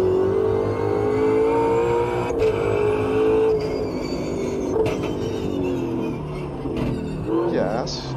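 Racing video game car engine, a car the driver finds faulty, droning steadily with a rising whine, loud and continuous under a talking voice.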